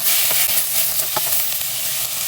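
Canned mushrooms fry in a pan of caramelized onions, giving a loud, steady, close sizzle with a few faint clicks of stirring.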